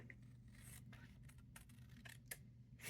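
Scissors snip through upcycled Amazon packaging material being cut into journal pockets, a few faint, quiet cutting and rustling strokes close by with no talk.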